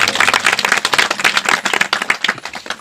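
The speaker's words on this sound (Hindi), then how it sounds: "ताली बजा के" A church congregation claps during worship, a dense run of sharp, loud handclaps that fills the space continuously with no voices.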